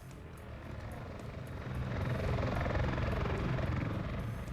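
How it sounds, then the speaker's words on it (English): Military helicopter in a tactical shooter game, rotor drone building steadily from moderate to loud as the chopper draws closer, with no other clear sounds over it. "Alright, chopper's on the way."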